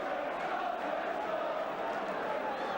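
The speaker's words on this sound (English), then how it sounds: "Now the match and the crowd has come to life." Football crowd at an Arsenal versus Manchester City match, a dense, continuous roar of many voices swelling in the stands, steady and fairly distant beneath a commentator's voice.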